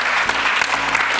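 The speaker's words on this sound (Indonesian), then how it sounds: "Jadi tepuk tangan buat teman-teman semua" An audience claps steadily and densely throughout a short burst of applause at a group gathering, the clapping loud, close and continuous without a break.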